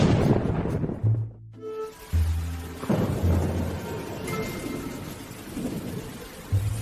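A sudden downpour hisses steadily while rolling thunder booms and rumbles several times, loud and close, with low tones underneath the storm.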